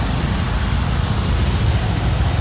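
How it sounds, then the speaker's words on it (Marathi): Steady broadband road noise from night traffic in Kalyan, a continuous low rumble of cars and heavier vehicles passing at moderate distance, with no voices. "कल्याणची ट्रॅफिक बघा"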